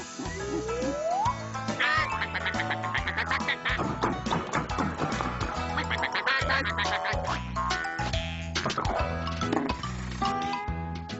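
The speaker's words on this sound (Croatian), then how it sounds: "Zatim je Tom pronašao patke." Repeated duck quacking over a bouncy musical backing from the Croatian-dubbed cartoon Tractor Tom, the quacks popping up throughout at a lively pace.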